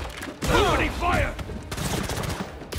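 Rapid volleys of gunfire crackle in the Spider-Man 2 video game, with bursts of shots mixed with a tonal sweeping effect and voices speaking over the action.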